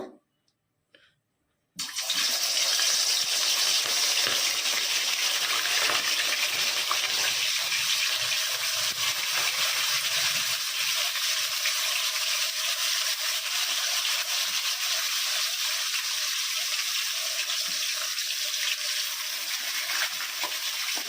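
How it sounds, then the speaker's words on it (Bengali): Pieces of katla fish sizzle in hot oil for a Bengali doi katla, a steady, loud, hissing crackle that starts after a brief quiet moment and carries on unbroken to the end. "তেলটা গরম হয়ে গেছে, এবারে আস্তে আস্তে মাছগুলো দেব"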